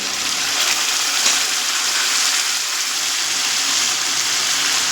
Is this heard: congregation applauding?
no